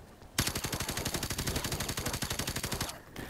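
Suppressed MP5SD gunfire from Call of Duty: Modern Warfare Remastered, a single sustained automatic burst of rapid, evenly spaced muffled shots lasting nearly three seconds, then stopping with a brief mechanical tail.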